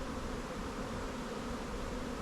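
Honeybees buzz around a crowded hive entrance on a hot day, a steady close hum of many wings with no pauses, unbroken from start to end.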